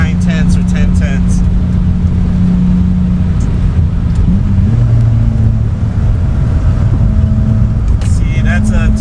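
A BMW E30 drives hard around a track, its engine droning steadily and loudly throughout with pitch shifts as it changes speed, and a voice talks over it now and then.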